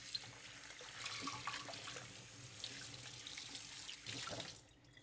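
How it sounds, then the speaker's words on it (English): Warm water runs steadily from a kitchen faucet while a Vitamix blender lid is rinsed, a close, continuous splashing rush with shifting tone as the stream hits the container, cutting off near the end. "Quick rinse, warm water."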